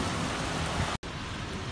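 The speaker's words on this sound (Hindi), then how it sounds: "बड़ी हैवी रेन हो रही है इस्लामाबाद रावलपिंडी में" Heavy rain pours steadily in Islamabad and Rawalpindi, a dense, continuous hiss of downpour close by, briefly cut by a split-second gap.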